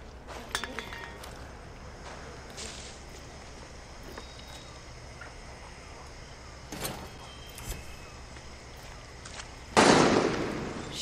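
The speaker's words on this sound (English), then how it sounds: "Shit, who's shooting?" Distant gunfire in the video game Far Cry 6: a few sharp, scattered shots over a quiet ambient bed, ending in a louder, longer burst near the close.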